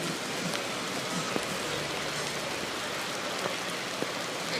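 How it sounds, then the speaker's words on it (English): Steady rain pours down over an outdoor show jumping arena, an even, dense hiss with no pauses and no voices heard over it. "Rain is intensifying at the moment."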